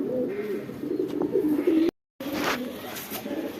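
A prized pet pigeon kept at home coos in repeated low, rolling phrases, close and fairly loud, with a brief silent gap partway through.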